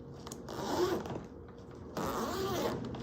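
Two long zipper pulls on a hardside PC ABS carry-on suitcase, each a steady ripping rasp lasting about a second and a half, separated by a short pause, close up with no talking.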